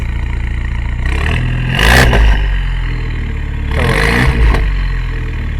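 BMW F10 528i from 2013 with a quad Valvetronic exhaust from La Balance Auto, idling deeply then blipped twice in sharp throttle revs roughly two seconds apart, close and loud.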